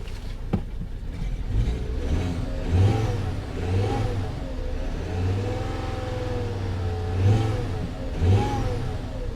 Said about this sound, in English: When you give the car gas, it does clear up some.